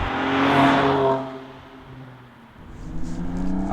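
A 2019 BMW M2 Competition's detuned M4 engine revs hard, climbing to a loud, rising roar, then easing off through a shift before pulling again, close and without talk.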